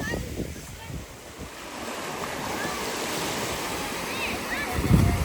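Ocean waves wash against the shore with a broad rushing roar that swells toward the end, buffeted by wind on the microphone, while a person speaks briefly near the start.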